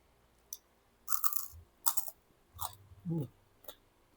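Several crisp, crunchy bites and chewing bursts of fried crablet okoy close up, with short pauses between them and no talking.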